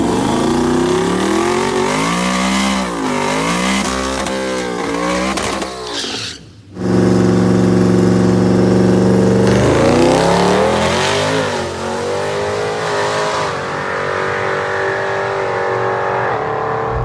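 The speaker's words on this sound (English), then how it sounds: "This car is an Armageddon twin turbo car." A twin turbo Mustang drag car with an Armageddon twin turbo setup and GTX 3582R turbos accelerates hard with loud rising engine sweeps, pauses briefly for a gear change, then pulls again at full volume.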